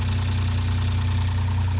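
A repaired car interference engine idles smoothly and steadily up close, with a faint even pulse in its hum and no talking.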